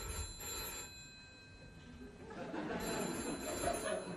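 Telephone ringing indoors, an electronic bell repeating in short bursts, moderately faint, with no talk.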